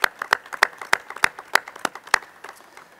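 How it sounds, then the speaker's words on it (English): A small audience gives sparse applause at a West Virginia government announcement of small-business funding. The claps are scattered and uneven, fairly close, and die away within three seconds. "Yes, a round of applause."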